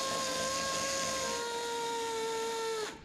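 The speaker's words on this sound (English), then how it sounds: "So I'm going to use the belt sander and start cutting this down." A belt sander grinding down a bonded plastic bumper repair. A steady high motor whine with a gritty rasp beneath it runs close for nearly three seconds, then cuts off abruptly.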